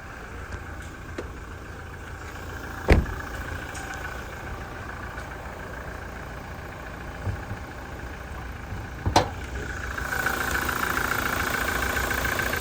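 A 2018 Toyota Hilux SR 4x4 engine idles with the hood open, a steady, low rumbling hum joined by a couple of sharp clicks, heard up close with no talking.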